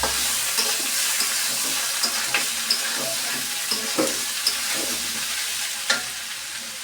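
Cumin paste frying in a pan, a steady hiss of sizzling oil with scattered crackles and soft stirring taps throughout, close and alone with no voices.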